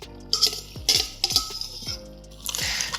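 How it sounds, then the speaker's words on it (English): A spoon stirs macaroni into thick cheese sauce in a pot, making a few distinct metallic clinks and scrapes against the pan, spaced irregularly with soft wet stirring between. "Make sure you use a spoon when you're whisking in the macaroni"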